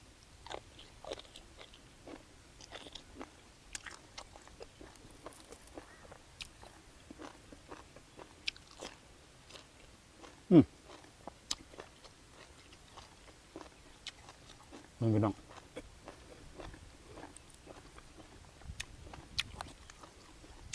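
Crunchy squid tentacle seafood is bitten and chewed up close, with soft, sparse crunching throughout and two louder, sharper bites standing out in a quiet room.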